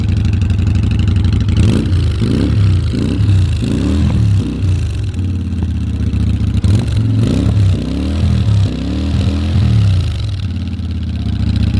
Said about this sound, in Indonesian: Nah, jadi saya tuh barusan nge-revving sampai 5000 RPM